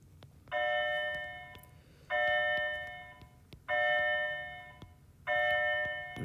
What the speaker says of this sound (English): the bell just went off for some reason